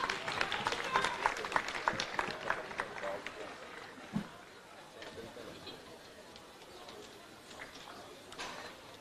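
Faculty-event audience at a university pharmacy faculty music gathering claps to welcome the dean to the stage, a quiet, fairly distant patter that thins out after a few seconds, with some chatter mixed in.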